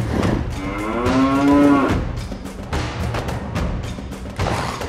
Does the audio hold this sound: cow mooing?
yes